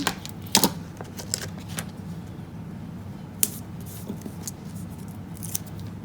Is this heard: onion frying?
no